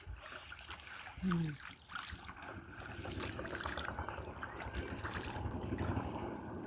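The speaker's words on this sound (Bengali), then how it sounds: "প্রথমে দোনো হাতের কবজি সহ 3 বার ধোয়া সুন্নাত" Water runs and splashes as both hands are washed up to the wrists for wudu, a steady rushing wash that grows fuller after a brief voice near the start.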